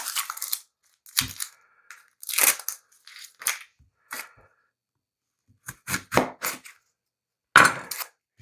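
A knife chops the ends off onions in a series of short, crisp crunching cuts, grouped in little bursts with silent gaps between them, close and fairly quiet.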